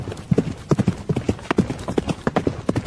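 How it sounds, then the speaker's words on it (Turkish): Rapid, rhythmic hoofbeats of horses galloping close by, a steady drumming clatter throughout. "Bir de ne görsün atlar dört nala doğru ormana gidiyorlarmış."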